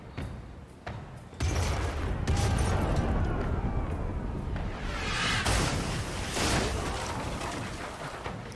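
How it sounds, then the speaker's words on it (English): Booming cannon blasts from the video game Pillars of Eternity 2: Deadfire roll out in a heavy, rumbling barrage, with crackling debris and echoing thunder layered over one another. "We fire the starboard cannons."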